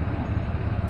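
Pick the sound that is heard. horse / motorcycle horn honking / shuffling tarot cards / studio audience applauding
motorcycle horn honking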